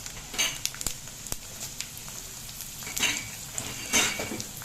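Peanut pieces and dried red chillies fry in hot oil with a steady low sizzle, broken by a few sharp clinks and scrapes of a utensil stirring the pan.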